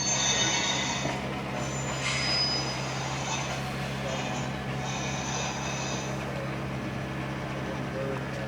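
Model railroad train wheel squeal from a Squealer electronics board by Iowa Scale Engineering, a steady high metallic screech that swells and fades in several bursts over a continuous low rumble, moderately loud and unaccompanied.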